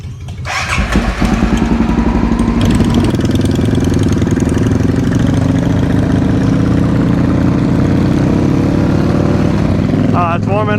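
Supermoto motorcycle engine idling steadily as it warms up, a loud close continuous rumble with a rising start, and people talking faintly over it.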